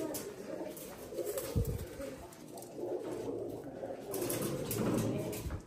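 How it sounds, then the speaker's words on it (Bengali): Pigeons coo in low, repeated throaty phrases close by, with soft rustles and faint background noise around them. "আরে দেবা, ওই কবুতরগুলো সব আছে, কবুতরটা তো ধরা শেষ"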